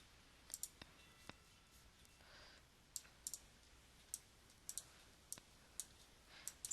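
Sharp computer mouse clicks in a quiet room, single and double clicks scattered irregularly, close and crisp with near silence between them, as options are selected in data-entry software.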